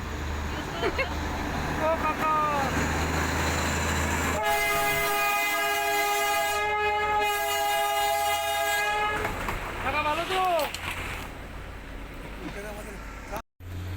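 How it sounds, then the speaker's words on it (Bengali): A Darjeeling toy train passes along the line beside a rainy roadside, its horn blowing one long, loud, steady blast for several seconds with rumbling rail noise around it. A person talks before and after. "এখানেও লাইনের পাশ দিয়ে আমাদের টয় ট্রেন যাচ্ছে"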